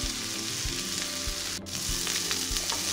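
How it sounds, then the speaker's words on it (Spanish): Steady sizzling of vegetables and corn frying in a pan, close and continuous, with occasional soft pops and stirring sounds. "Ya esto se está friendo."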